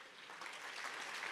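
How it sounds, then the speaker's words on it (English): Audience applause at a live music event, the 2024 World Food Forum at the UN FAO headquarters in Rome, Italy; a dense, steady burst of clapping fills the whole short moment at moderate loudness with no voices over it. "Please give yourselves another round of applause for coming here"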